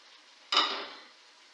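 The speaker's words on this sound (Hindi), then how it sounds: "ये देखें, अब मैं इसमें डालूंगी टमाटर।" A single quick clatter and sizzle as tomatoes drop into a pan of frying karela and onions, followed by a fading hiss of cooking.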